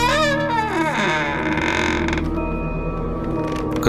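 A door swinging open, given as a creaking sound effect for a horror story: a loud, drawn-out groaning creak with wavering, sliding tones that settles into a steady high whine, with no voices.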